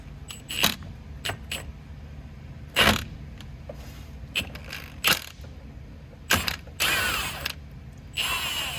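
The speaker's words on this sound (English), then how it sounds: "let's go ahead and get this bolt off" Wrench turning to remove a suspension bolt on a GMC Savana 3500 van, giving a series of short metallic ratcheting clicks and creaks in irregular bursts, close by with no talk.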